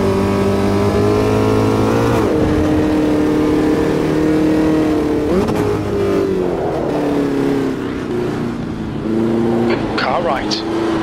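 Race cars in the sim racing game Automobilista 2 circle Brands Hatch against AI opponents, engines droning loudly and shifting pitch through gear changes and braking, while a voice talks over the racing.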